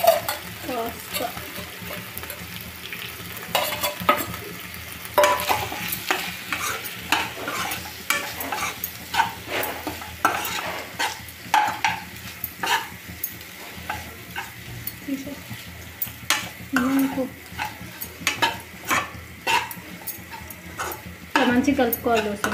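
Boiled pasta is stirred in a sizzling pan, with repeated scraping strokes and soft clinks of a utensil against the pan over a steady, quiet frying hiss.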